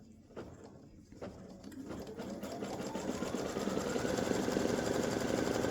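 An embroidery machine stitches an appliqué design onto a t-shirt, its rapid needle hammering building from a few starts into a steady, loud, fast mechanical rattle with a rising whirring tone, close by and with no talking.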